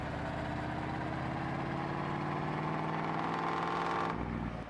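A vehicle engine idles roughly in Farming Simulator 22, a steady, loud, low mechanical rumble with an uneven pulse that holds throughout and then drops in tone near the end.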